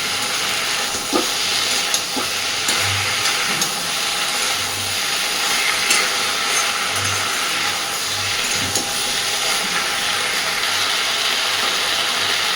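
Okra and potato fry in hot oil in a pan, giving a continuous dense sizzle and hiss with occasional faint clicks and soft low bumps from the pan.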